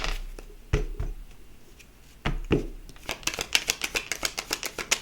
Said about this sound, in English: give it another shuffle here